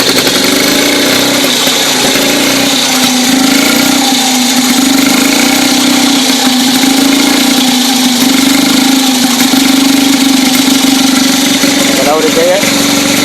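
A 1914 New Hudson motorcycle engine runs steadily close by, a loud continuous mid-pitched chugging with a slightly wavering beat throughout, with someone speaking briefly over it.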